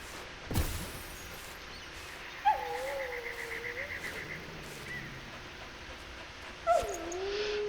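Dog in the game Enshrouded whimpering, two drawn-out whining cries a few seconds apart, fairly clear over a faint ambient game background with a soft distant thump near the start.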